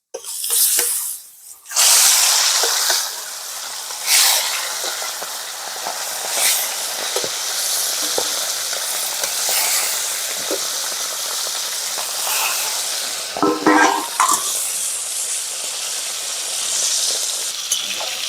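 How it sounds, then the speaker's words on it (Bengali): Small puti fish fry in hot oil, turning reddish, with a steady crackling hiss throughout and several louder spits and sputters now and then. "লাল লাল করে ভাজা হচ্ছে মাছগুলো"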